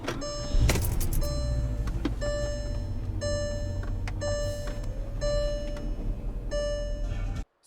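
A Porsche Cayenne's engine cranks and catches with a short burst, then settles into a low, steady idle inside the cabin while a regular chime-like tick repeats about once a second until everything cuts off abruptly.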